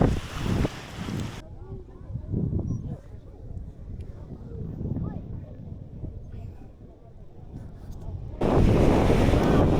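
Wind at the seaside buffets the microphone in loud gusts, with surf and open-air rumble in the background and people talking in between.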